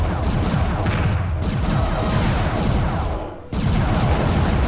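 Gunfire in the space combat video game Starlancer, a dense continuous barrage of rapid shots and booming impacts, loud and close, with a brief dip before the firing resumes, no speech.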